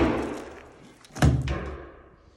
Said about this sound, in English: I'm just banging the shit out of this with my sledge to kind of bust it up